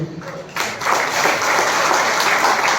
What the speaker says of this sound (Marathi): आपण सर्वांनी टाळ्या द्यायच्या आहेत.